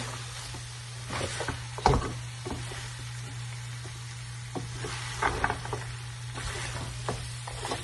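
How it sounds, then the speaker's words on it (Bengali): Beef karahi with torn bay leaves cooks in a pan, a sizzle under a constant low hum, with a few spoon scrapes and knocks as the mixture is stirred. "একটু নাড়া দেন, না হয় নিচে লেগে যাবে।"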